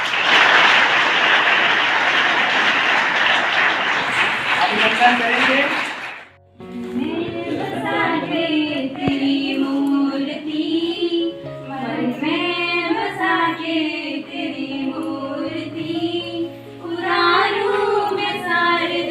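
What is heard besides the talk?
audience applause welcoming a guest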